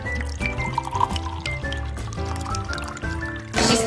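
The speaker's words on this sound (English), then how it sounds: "I'll pour in some water." Water is poured into a puppy's bowl, a short burst of liquid splashing toward the end over a dense, loud backdrop of music.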